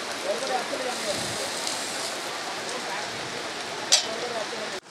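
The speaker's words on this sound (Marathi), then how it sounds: "असा पावसाचा सीझन आहे, मस्त पाऊस पडतोय" Steady rain falls during the monsoon season, a dense, even hiss that carries on throughout, with one brief sharper splash or clatter near the end.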